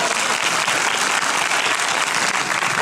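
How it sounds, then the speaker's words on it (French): A comedy-show audience breaks into dense, continuous applause, loud and even throughout the few seconds, with no speech over it. "On les applaudit."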